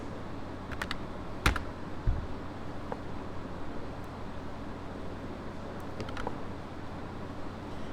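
Keys are pressed on a computer keyboard at a desk; sparse, close clicks come in small clusters with a couple of sharper key hits, over a quiet steady background hum.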